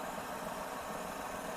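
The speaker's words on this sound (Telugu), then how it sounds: "ఇంజన్ బీటింగ్ కూడా చాలా బాగుంది" Renault Kwid RXT petrol engine idles steadily, a faint, even hum with a light rhythmic beat and no revving throughout.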